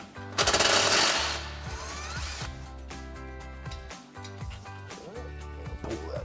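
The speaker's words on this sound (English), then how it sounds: "So we're gonna take a 13mm socket on an extension." A socket wrench on an extension works a 13mm bolt loose from the exhaust under the back of a Jeep Wrangler JL, giving a loud rapid ratcheting burst for about two seconds, then fainter clicks under steady tonal background sound.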